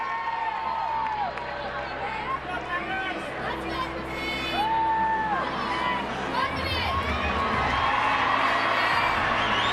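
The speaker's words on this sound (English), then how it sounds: "The crowd loves it." Arena crowd at a women's gymnastics championship cheering and whooping steadily through a balance beam routine, with scattered chatter; the roar swells louder toward the end.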